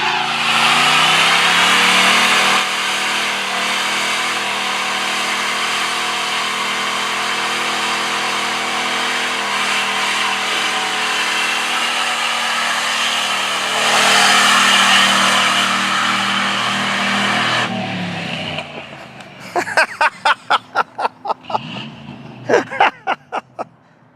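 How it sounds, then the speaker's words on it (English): A car with a 350 Chevy engine and 5-speed does a burnout, roaring loud and steady for about eighteen seconds before cutting out into a series of sharp revving bursts, close by. "My neighbor here's gonna do a burnout."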